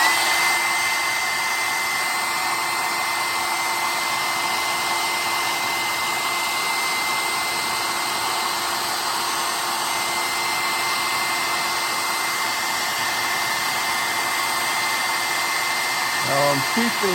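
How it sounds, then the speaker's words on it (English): A hair dryer blows steadily with a constant high whine throughout, loud and close, with a faint voice briefly at the very end. "let me use the hair dryer again."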